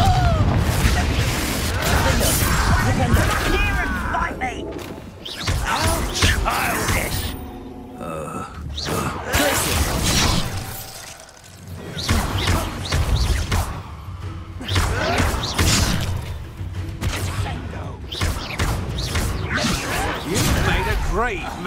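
Confringo blasting spells in the video game Hogwarts Legacy set off repeated booming explosions, mixed with combat grunts and thuds at a busy, irregular pace, with speech throughout.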